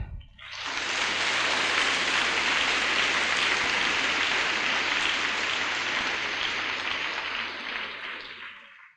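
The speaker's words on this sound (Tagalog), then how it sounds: "Ang lahat ng mga anak ng Diyos ay pumalakpak." A church congregation at a 1994 worship service bursts into sustained applause, a dense, loud wash of clapping that holds steady for about eight seconds before tapering off.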